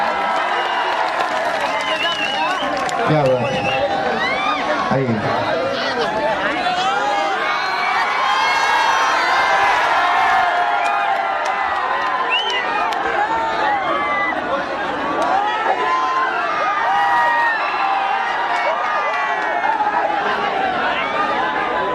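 A stage event crowd cheers and claps to welcome actress Akshara Singh, a loud, continuous wash of applause and shouting that runs the whole time, with a voice speaking over it.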